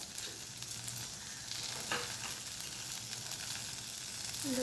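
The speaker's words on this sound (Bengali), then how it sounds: "বেগুনগুলো ভাজা ভাজা হয়ে এসছে" Whole eggplants fry slowly over low heat in a pan with onion, garlic and chana dal, giving a steady, close sizzle that runs unbroken with one faint clink partway through.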